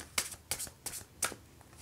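An oracle card deck is shuffled in four quick riffling bursts, close and crisp, with short pauses between them.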